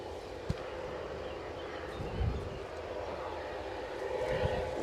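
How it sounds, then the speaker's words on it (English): Ryanair airliner arriving from Biarritz at a windy Edinburgh Airport, a faint, fairly distant engine rumble mixed with gusting wind noise, swelling slightly toward the end. "And then it's Ryanair from Biarritz."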